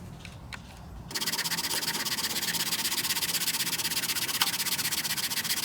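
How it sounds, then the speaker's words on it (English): A rusty flywheel from a Kohler 149cc XT engine is sanded by hand, starting after a second of quiet into continuous rapid, rhythmic scraping strokes, close and loud with no talk. "I'm also going to sand the flywheel real good"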